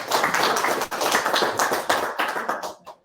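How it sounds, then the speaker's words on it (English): Group clapping at an informal team retreat, a dense burst of handclaps from several people lasting about three seconds before tapering off into silence. "That's such a clap."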